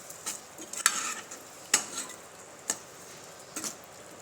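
Pounded spice mix being stirred into a Kathiawadi bottle gourd curry, heard as a few soft, spaced scrapes and taps of a spoon in the pan over a quiet background.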